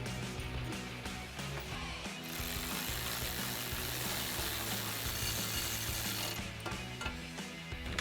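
A ratchet tightens the bracket bolts on Silverado 1500 running boards, rapid close clicking in repeated bursts with a steadier dense stretch in the middle.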